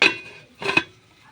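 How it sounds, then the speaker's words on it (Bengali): A metal lid set onto a cooking pot of papaya curry gives two quick clanks, the second a double clink, close and clear with no talking. "সিদ্ধ হলে ঢাকা চাপা দিয়ে দিচ্ছি"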